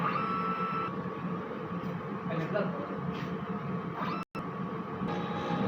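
A DTF printer runs a head cleaning cycle, giving a steady mechanical hum and whir with faint higher whines, close and continuous apart from one brief cut.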